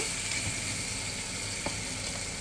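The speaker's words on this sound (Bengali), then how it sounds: "এবার টমেটোটাকে খুব ভালো করে ভেজে নেব" Tomatoes fry with salt and turmeric in a pan, giving a dense, continuous, even sizzle with one small knock near the end and no talking.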